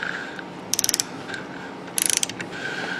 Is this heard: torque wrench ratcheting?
yes